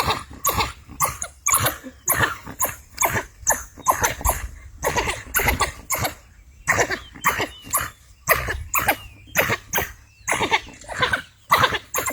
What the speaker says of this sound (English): Yeah, he's choking him. It's wild dog.